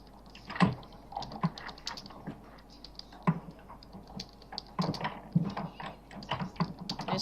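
Rapid keystrokes on a computer keyboard as a chat message is typed during an online game, irregular bursts of light clicks with short pauses, close and fairly quiet, no voices.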